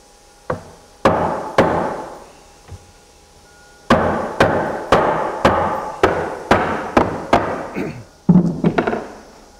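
A hammer drives nails into a log wall under construction, with about a dozen sharp, ringing blows in irregular bursts, close and loud, and short pauses between groups of strikes.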